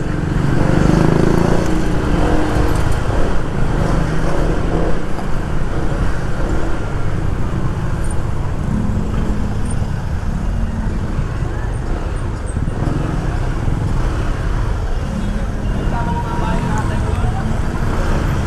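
Heavy road traffic of cars and motorcycles on the way to Gilmore, with a dense, steady engine drone close by and someone talking over it throughout.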